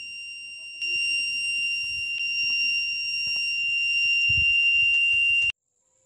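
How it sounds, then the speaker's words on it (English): A homemade water level indicator's high electronic buzzer sounds continuously for about five seconds as water reaches a sensor wire in a bowl, steady and piercing, then cuts off abruptly. "When the water touched fourth wire, the buzzer has sounded."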